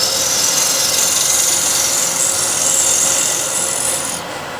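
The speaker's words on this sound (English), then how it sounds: "draw the steel out a few times, and I won't make it too big of a burr" Steady, loud scraping rasp of a burnishing steel drawn along a steel negative rake scraper to raise a light burr, continuous and close, easing off near the end.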